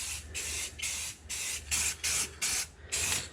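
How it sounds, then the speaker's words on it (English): Silver spray paint blasts from an aerosol can inside a car interior in six or seven short, loud bursts of hiss. Each burst is separated by a brief pause, in an even rhythm. "So now I'm just gonna go ahead and spray it real quick."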